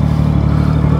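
Triumph Daytona 675 motorcycle fitted with a Yoshimura slip-on exhaust, engine running with a steady close throaty drone for about a second, no talk.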